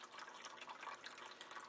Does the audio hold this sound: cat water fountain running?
yes